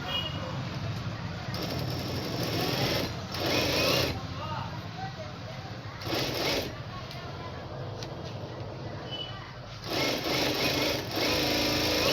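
A sewing machine stitches a blouse lining along a marked line: a steady close whirring hum in several runs separated by brief pauses.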